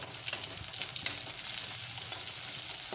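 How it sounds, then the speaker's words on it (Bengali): Two medium onions, finely chopped, fry in hot oil for a Bengali muri ghonto, giving a steady close sizzle with small crackles and pops and no talking. "দুটো মাঝারি সাইজের পেঁয়াজ আমি এখানে কুচিয়ে রেখেছি, সেটা আমি তেলে একটু ভেজে নেব।"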